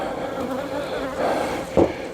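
Bee Weaver honeybees buzz in a steady, close drone during a corner hive inspection, with a brief louder swell near the end and no talk.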